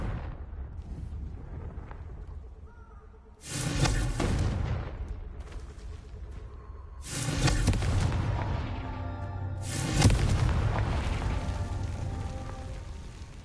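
Confringo blasting spell explosions in the Hogwarts Legacy video game: three loud, booming bursts a few seconds apart, each followed by a rumbling decay over a low background hum.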